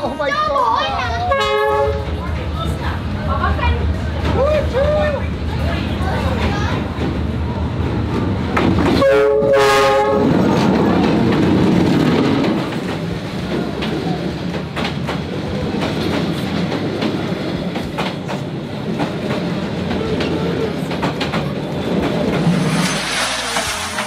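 A train rumbles slowly and loudly through the narrow Hanoi Train Street, its horn sounding twice over steady clattering wheels and engine roar, with crowd chatter and voices mixed in.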